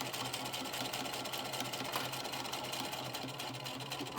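A sewing machine runs steadily up close, its needle chattering in a fast, even rhythm while back stitching fabric pinwheel scraps, with no talk over it.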